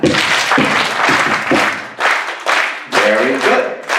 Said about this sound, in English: And you clap.